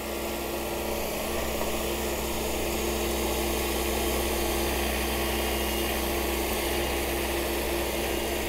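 A tractor engine runs steadily on rural property during tree planting, a constant low idling drone with a faint hum that stays even throughout.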